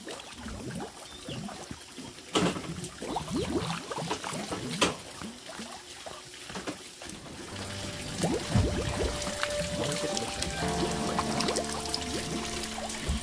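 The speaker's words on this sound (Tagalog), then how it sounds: "yung gripo natin mga kabayan, ayan, tapos yung lababo natin, nakita nyo po, ayan po, doon lumalabas yung tubig sa ilalim" Water leaking out from under a kitchen sink pours and splashes continuously nearby, with trickling and dripping sounds and a few knocks, steady throughout.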